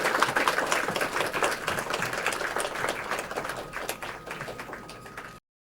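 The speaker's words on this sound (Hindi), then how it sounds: "आप सभी से अनुरोध है कि खड़े होकर तालियों के साथ उनका स्वागत करें।" An audience at the Raj Bhavan stands and applauds the Governor's arrival, a dense, fairly distant patter of many hands clapping steadily for about five seconds before cutting off abruptly.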